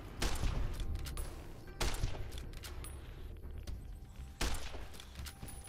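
Gun firing in the game Fallout: Dust, three heavy bursts of shots spaced about two seconds apart, each with a rumbling tail, fairly distant and loud.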